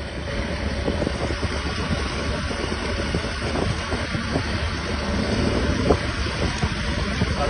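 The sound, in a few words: borrowed motorcycle engine running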